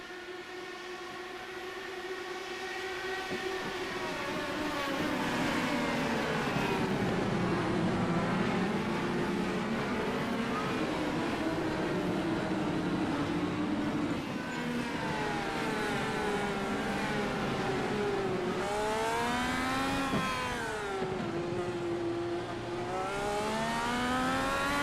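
Indy race cars at Long Beach in iRacing howl past in a pack, engines rising and falling in pitch as they accelerate and shift, a loud continuous multi-car drone that swells near the end.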